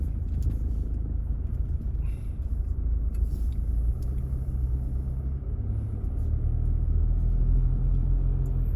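A car drives through the Khon Kaen University campus, giving a steady low engine and road rumble from inside the cabin, continuous and unbroken.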